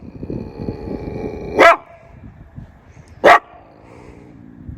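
Two loud, sharp dog barks ring out about two seconds apart over a quiet murmur of low background noise.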